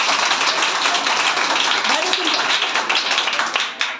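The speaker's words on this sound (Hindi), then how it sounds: "चलिए ताली मारिएगा इनके लिए" Students in a class 8 maths classroom applaud together, a dense burst of clapping lasting a few seconds, mixed with voices.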